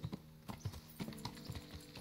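Horse hooves in the medieval video game Kingdom Come: Deliverance, a quick steady clip-clop of hoofbeats at close range over a faint low hum, with no talking.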